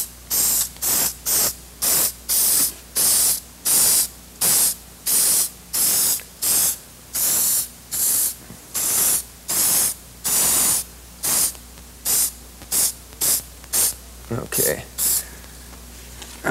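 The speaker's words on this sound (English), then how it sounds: "when you're spray painting, you don't need to go heavy." Spray paint from an aerosol can hisses over a stencil in about twenty steady short bursts, each a loud, close, even blast separated by brief pauses, with no talking.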